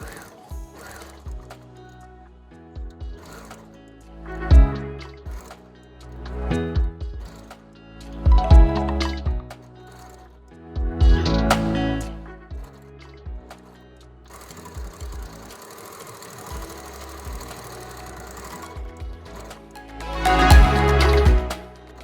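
A sewing machine stitches fabric pieces of an Easter bunny together in short bursts of rapid whirring, separated by brief pauses and soft handling thumps, close and clear with music playing underneath.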